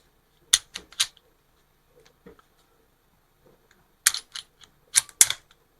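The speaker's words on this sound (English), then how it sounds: "Alright, going to let the slide go forward." Taurus TCP 380 pistol slide handled and released forward during disassembly, giving a few sharp close metallic clicks and snaps in short clusters separated by near-silent pauses, with faint small handling noises between them.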